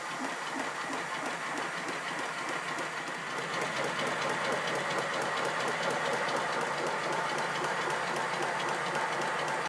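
A 5 inch gauge Lion model steam locomotive runs steadily forward, giving a continuous close mechanical clatter with a fast rhythmic chuffing beat and no talking.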